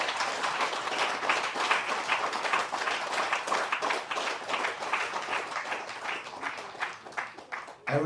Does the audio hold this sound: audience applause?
yes